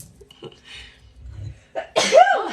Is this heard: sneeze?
yes